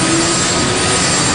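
Chinook helicopter engines run loud and close, a dense continuous turbine roar with a steady high whine, no voices over it.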